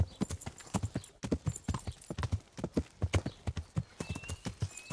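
Horse hooves clip-clop steadily in the medieval role-playing game Kingdom Come: Deliverance, a brisk, close, rhythmic trot with occasional snorts, heard alone without talk.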